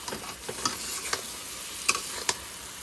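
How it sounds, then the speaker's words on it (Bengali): Fried eggs sizzle steadily in a pan while a utensil scrapes and taps against it now and then in short, irregular strokes. "দিয়ে এবার এটাকে ভালো করে নাড়তে হবে"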